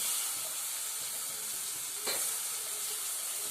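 Onions fry in a pan with a steady, close sizzle and hiss, interrupted by a brief stirring scrape.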